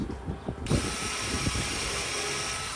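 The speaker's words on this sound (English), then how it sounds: "pre-drilling our screw holes" A power drill bores pilot holes for screws into a 2x4 beside the 4x4 posts of a staircase build, a steady close high-pitched whine that kicks in after a brief start and holds to the end.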